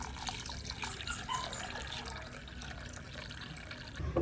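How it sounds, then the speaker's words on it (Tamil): Drinking water poured into a bowl of soaking urad dal, a soft continuous trickle and splash, close and quiet, steady for a few seconds with a small clatter at the end. "குடிக்கிற தண்ணியே விடுவோம்"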